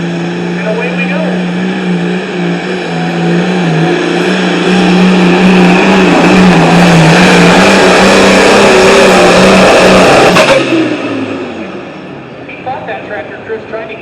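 Pulling tractor engine roaring loudly down the track at a Darlington, Wisconsin tractor pull, the note climbing and holding at full power before cutting off sharply, with crowd noise faint underneath.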